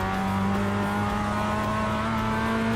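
Mazda MX-5 race car in the iRacing sim, its engine holding a steady, loud drone with sustained harmonic tones throughout, no talk over it.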